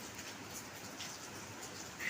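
Heavy rain falling in Korea, a steady, fairly faint hiss of downpour that holds unbroken for the whole stretch with no voices.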